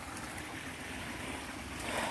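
Broad, steady rushing wash of water flowing along a river-like creek, continuous and fairly even, swelling slightly toward the end.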